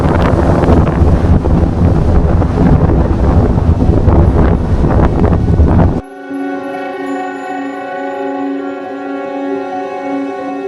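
Strong wind buffets the microphone on a hilltop during a trek to a fort, a loud continuous roar for about six seconds before cutting off to a quieter steady hum.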